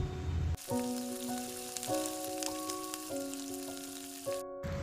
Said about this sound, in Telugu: ఇప్పుడు కలిపి పక్కన పెట్టుకున్నటువంటి బెండకాయ ముక్కల్లో కరివేపాకు వేసి వీటిని కూడా డీప్ ఫ్రై చేసుకోవాలండి.